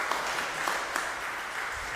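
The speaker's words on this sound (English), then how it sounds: "Let's give our volunteers a round of applause." Applause for volunteers during a church sermon, a short burst of many hands clapping together, fairly soft and even, heard from across the room.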